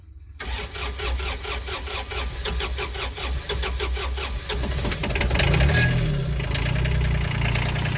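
After glow-plug preheating, a diesel engine cranks briefly and catches, then settles into a steady, close, rumbling idle that grows slightly louder toward the end.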